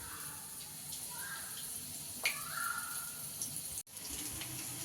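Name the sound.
battered onion rings frying in oil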